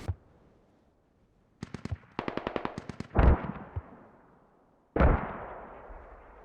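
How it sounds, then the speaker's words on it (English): Rapid bursts of gunfire and heavy mortar impacts from the video game Squad, on the Chora map: a fast rattling volley, then several booming explosions that tail off with long rumbling decay, loud and close. "Enemy mortars are back up."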